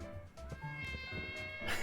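A cartoonish cat meow from a video game, short and bright, sounding over faint background music with a voice briefly present.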